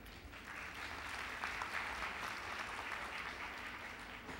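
Audience applause during a business conference speech in the Philippines, a steady wash of many hands clapping from a seated crowd at moderate distance, sustained evenly throughout without voices over it.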